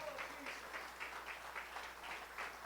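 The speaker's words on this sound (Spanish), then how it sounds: "Dele una ofrenda de palmas al Rey." Church congregation applauding during a Spanish-language sermon, a faint, steady wash of clapping with soft rhythmic pulses, heard from a distance in a large room.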